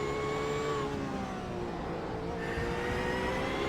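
Audi GT3 race car engine at Indianapolis, a steady high-pitched whine with rising and falling revs as it shifts through gears, loud and continuous without pauses.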